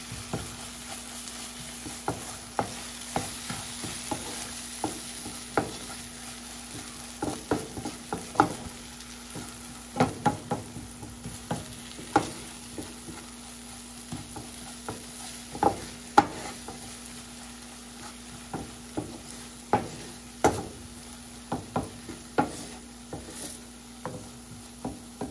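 Masala paratha ingredients with black pepper being mixed in a bowl, a steady series of soft, close scraping and tapping stirs over a faint constant hum, no talking.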